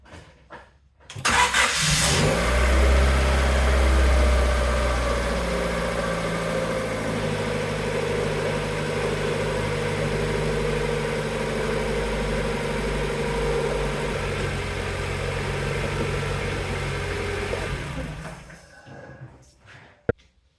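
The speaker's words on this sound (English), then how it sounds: "that was the car running off the AUXITO battery just by itself" A car engine idles steadily after being started by an AUXITO jump starter with an air compressor. It catches about a second in, then holds a continuous, fairly loud idle with a low rumble for roughly sixteen seconds before stopping.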